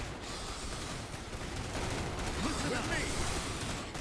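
Shotgun fire rattles in the Starship Troopers: Terran Command strategy video game, a dense, continuous battle din of rapid overlapping shots and bursts at moderate distance.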